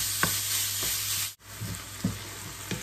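Minced pork stir-frying in a pan, a continuous close sizzle with spatula scrapes and taps at irregular intervals, briefly cut off midway.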